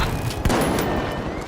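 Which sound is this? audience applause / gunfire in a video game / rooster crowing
gunfire in a video game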